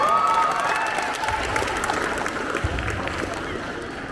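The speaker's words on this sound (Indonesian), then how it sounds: "Beri tepuk tangan kembali, silakan kembali." An audience at a school safety outreach session in Indonesia applauds, a steady patter of clapping from a crowd with a voice speaking over it.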